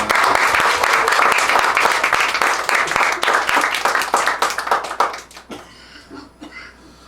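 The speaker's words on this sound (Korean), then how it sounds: "우리 박수 한번 해주십시다" A church congregation applauds, dense steady clapping filling the room for about five seconds before thinning to a few scattered claps and quiet.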